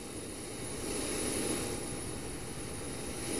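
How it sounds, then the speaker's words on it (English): Aircraft engine noise in the X-Plane flight simulator game at Atlanta, a steady, broad jet roar with a faint high whine that swells slightly, alone with no talking. "I hear airplanes."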